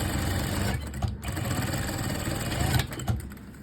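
Sewing machine runs continuously as it stitches the side seam of a strapless dress, a close, steady fast-ticking hum with a slight change in pace near the end.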